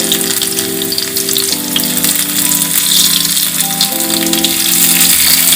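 Garlic tadka with cumin and red chili crackling in hot oil, a loud close sizzle that spits and hisses steadily, backed by a music track.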